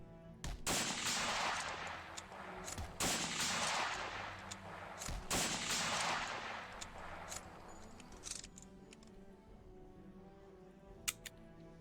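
Video game gunfire fills the air: several loud, sharp shots with ringing tails over a steady background bed, followed by quieter clicks and a few faint later shots.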